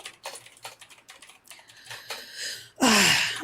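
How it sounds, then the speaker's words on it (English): Rapid clicky typing on a computer keyboard with long fingernails, a quick irregular patter of close taps that ends in a louder burst of rattling keystrokes. "I love typing with my long ass nails"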